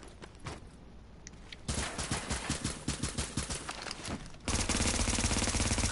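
Automatic weapon fire in The Division: a quieter stretch gives way to a fast, rhythmic burst of loud rounds, then an even denser, heavier stream of fire at the end.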